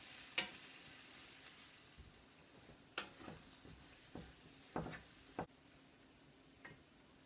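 Caramelized onions being stirred and scraped in a pan for French onion soup, heard as scattered soft scrapes and clicks over a faint, quiet sizzle, with no talking.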